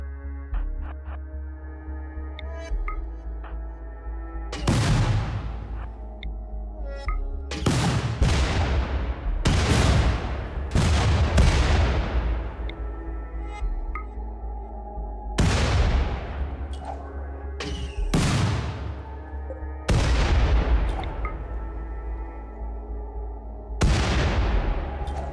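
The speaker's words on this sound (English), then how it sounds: "Nothing like killing a polar bear with a frag grenade." Frag grenades detonate repeatedly in RimWorld during a polar bear hunt, about ten sharp loud blasts at irregular intervals, each with a decaying rumble, over a steady low background hum.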